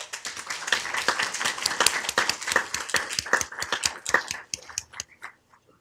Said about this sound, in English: So please give Vania a round of applause